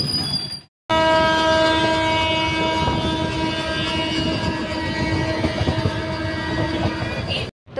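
A train passes through Asansol station with a loud, sustained horn blaring over the heavy rumble and clatter of the wagons. The horn starts abruptly after a brief silence and continues almost to the end.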